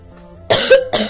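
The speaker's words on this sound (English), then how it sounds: "sorry about all this coughing" Two sharp, loud coughs close by, the first longer and followed after a short pause by a second burst; no talking.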